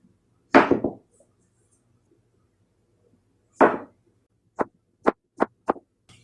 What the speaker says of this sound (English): All right, we are ready to slice our zucchini up. I'm going to cut this in about 1/4 inch slices.